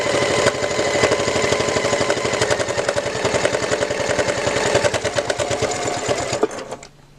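A sewing machine stitches down a patchwork bow made of Quilting Cuddle fabric, running in a steady, rapid mechanical rattle for about six seconds before slowing and stopping.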